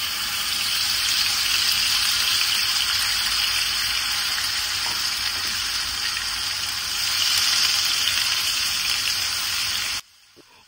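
Onion and garlic frying over medium heat for lentils with jute leaves, a continuous loud sizzle and crackle of hot oil for about ten seconds before cutting off abruptly.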